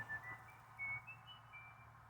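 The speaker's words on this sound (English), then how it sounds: "You whistled." Soft, thin whistling in a few short tones with gaps between them, fairly faint over a low background hum.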